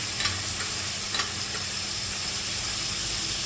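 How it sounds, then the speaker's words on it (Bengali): Turmeric, ginger paste and tomato paste sizzling in a pan while a vegetarian curry cooks, a steady close hiss of frying with a few soft stirring scrapes near the start. "দিয়ে দিচ্ছি হলুদ গুঁড়ো আদা বাটা আর টমেটোর পেস্ট"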